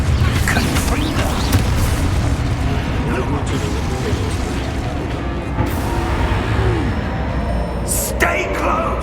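A Confringo fire-blast spell goes off during combat in the video game Hogwarts Legacy, a loud burst amid continuous clanking, rumbling battle noise, with a voice shouting over it.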